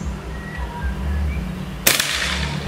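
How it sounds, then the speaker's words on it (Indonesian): A Bocap Predator PCP air rifle, shooting at about 1086 fps at a silhouette target, fires one sharp, loud crack near the end, following a stretch of low background noise. "Tembakan yang pertama."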